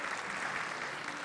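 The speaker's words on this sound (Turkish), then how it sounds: "Kocaman bir alkış daha alalım solistlerimiz için, bu güzel eserler için sevgili izleyenler." Concert audience applauding soloists at a Turkish music concert, a dense, even burst of clapping filling the hall briefly.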